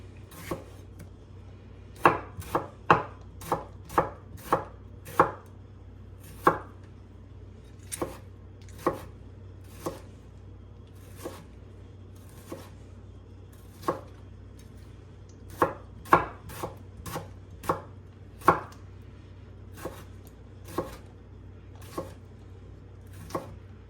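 A knife chops parsley and cilantro for tabbouleh on a board, crisp close strikes landing in quick bursts and slower single cuts over a low steady room hum, with no voices.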